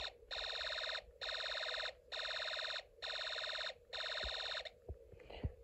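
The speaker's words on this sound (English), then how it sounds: "When I turn on the slide switch, you'll hear the sound of a machine gun." A Snap Circuits SC-750 alarm circuit, switched on by a slide switch, fires a machine-gun sound effect: five bursts of rapid electronic rattling, each under a second, with short gaps between them, then it stops, leaving a few faint knocks.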